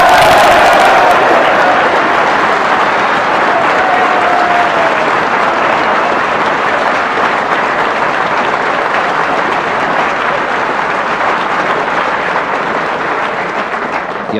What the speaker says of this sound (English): The applause tells its own story